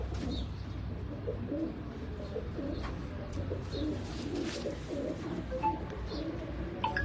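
Several rooftop pigeons in Karachi keep up a steady low cooing for several seconds, close and fairly soft, with a few brighter chirps and rustles mixed in and no speech.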